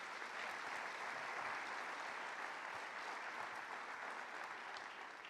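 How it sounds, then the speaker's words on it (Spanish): A church congregation applauds loudly and steadily through the whole stretch, a dense, even wash of many hands clapping together without any break. "denle un fuerte aplauso."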